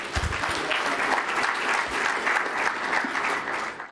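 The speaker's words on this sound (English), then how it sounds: "Ladies and gentlemen, please, just let's give a warm round of applause." An audience at an economics debate on Rwanda's economy gives the panelists a warm round of applause, loud and sustained clapping that fills the room throughout.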